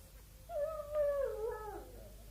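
A dog whimpering in a cellar in a radio drama, one drawn-out high whine that rises and then falls away over about two seconds, heard alone against a quiet background.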